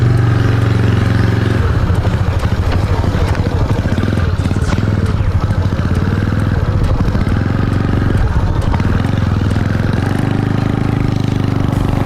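Three Honda motorcycles, a Dream and Wave 110i models, rev and run together in a race, a loud steady mid-pitched engine drone with clattering idle and throttle changes throughout, close to the microphone.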